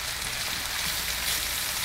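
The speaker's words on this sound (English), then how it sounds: "while my mushrooms, onion, and garlic are sauteing in the pan" Mushrooms, onion and garlic sauté in olive oil in a pan, giving a steady, even hiss like light rain, close by and unbroken for the whole stretch.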